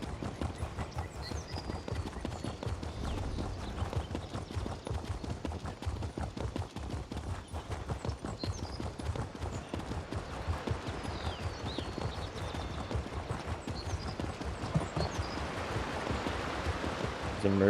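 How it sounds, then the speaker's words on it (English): Footsteps in The Elder Scrolls Online come as a steady, rhythmic patter of repeated steps that lasts throughout, with a faint ambient bed underneath and no music. "I'm just hearing my footsteps."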